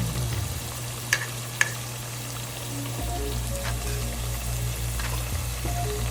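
Potato wedges frying in a pan give off a steady hiss and crackle, with a couple of sharp clacks as they are flipped and a low hum running underneath throughout.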